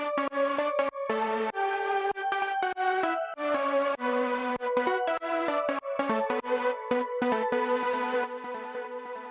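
A filtered Gladiator supersaw lead layered with a Nexus bell plays a bright, choppy melodic line of stacked sustained notes with short gaps, steady and fairly quiet, gently compressed, with no voices.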